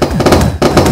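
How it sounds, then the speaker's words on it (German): Gunfire in the video game WASTED, a rapid loud volley of shots with a brief gap, then firing resumes, close and dominant. "Ich höre Schüsse sofort."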